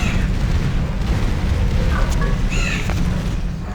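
Bombing explosions in a real-time strategy video game, a dense, loud rumble of booms rolling together, with a few sharper pops and short tonal game effects layered on top.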